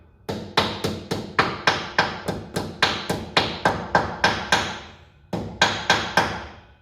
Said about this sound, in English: just hammer that one flush with the surface there